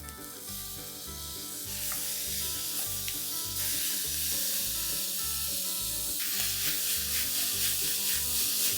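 Chopped tomatoes and onions sizzling in a pan for a green peas curry, a loud, close, continuous hissing fry that swells as more goes in, with light stirring scrapes and no talk.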